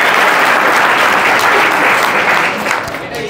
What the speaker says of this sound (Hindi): हाँ ताली बजाइए भाई आपने।